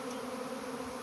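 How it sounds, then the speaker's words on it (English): A swarm of bees gives a dense, steady buzzing hum, continuous and fairly close with no pauses. "the bees are kind of deciding where to go"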